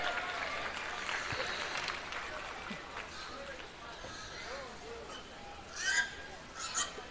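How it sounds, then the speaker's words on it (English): An audience applauds a class winner at a junior livestock show for minor breeds, with steady, moderate clapping throughout and sharp honking bird calls, like geese, breaking through near the end. "please give a big round of applause to your Class 1 winner from the Coweta FFA, Brody Walker."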